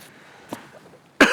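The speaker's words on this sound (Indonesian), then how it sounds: "Batuk-batuk begitu?" A young man coughs with a cold, one soft cough near the middle and a sharper, louder burst at the end, with quiet pauses between.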